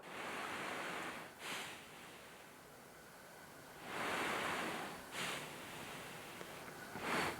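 CPAP air from an N30i mask at 12 cm of water pressure rushes in soft, breathy surges, swelling and fading in a slow rhythm close to the microphone, with no voices.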